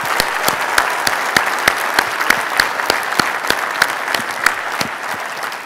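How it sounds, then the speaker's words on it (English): A room full of people gives a round of applause for Laura DeFilippo, outgoing chairman at an ACCA gathering, with sustained, even clapping and a few sharp individual claps standing out close by. "I have to ask for another round of applause for Laura DeFilippo"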